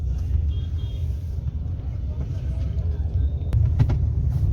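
Night traffic jammed on a bridge, with a low steady engine rumble from idling and creeping vehicles nearby and a brief sharper sound near the end, and people talking over it.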